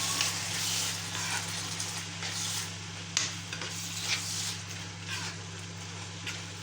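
Minced meat with tomato sauce, onions and other ingredients being stirred in a pan as it simmers, a steady soft sizzle with scraping stir strokes throughout, no talking.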